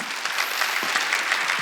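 A church congregation applauding during a New Year's Eve worship service, steady close crowd clapping filling the short moment.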